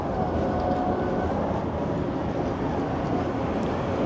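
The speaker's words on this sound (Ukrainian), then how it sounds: "ось початок, трамвайчики ходять" Trams run along Pasteur Street in Odesa, a steady, loud rumbling roll of wheels on rails with city traffic noise, continuous throughout with no talk.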